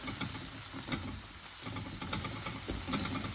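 A flour and oil roux cooks in a pan for a clam seafood sauce, giving a steady close sizzle with soft stirring scrapes and occasional crackles, with no voices.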